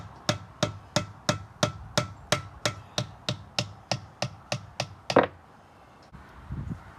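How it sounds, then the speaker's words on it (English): A hardwood drift knocks lifters out of a 1968 Camaro 327 engine block: about fourteen sharp, evenly spaced wooden taps in quick succession, close and loud, ending with a clunk and brief handling noise. "I'm just using a hardwood drift to take the lifters out."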